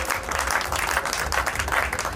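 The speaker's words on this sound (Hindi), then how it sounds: "एक बार जोरदार तालियां पूरी।" Applause rises from the audience at a Hindi kavi sammelan poetry gathering, a dense, steady clatter of many hands filling the room at a fairly even level.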